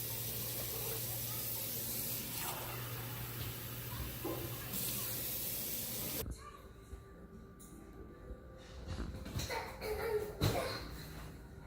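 Water runs steadily from a tap, then the sound shifts as it pours into an Instant Pot with red lentils, with a soft splash and some clinking near the end.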